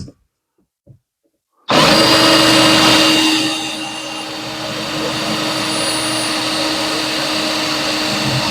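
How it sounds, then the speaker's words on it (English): A drill with an oiled bit cuts holes in a motorhome roof, starting suddenly after near silence and running as a loud, sustained grinding whir that eases slightly in level partway through. "So now we're going to go ahead and drill those"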